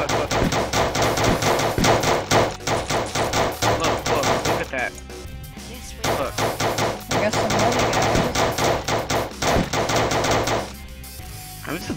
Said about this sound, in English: And you shoot zombies in the game.